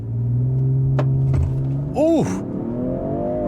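Range Rover Sport SE launching hard from a stop, a loud steady engine drone rising, then a rapid gear shift partway through, with a brief exclamation from an occupant.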